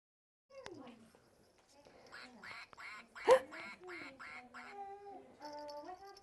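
A duck sounds in a classroom for non-mobile infants, probably a toy or book duck, with a sharp loud quack in the middle among a soft adult voice talking before and after in a quiet room.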